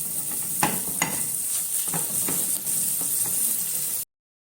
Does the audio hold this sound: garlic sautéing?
yes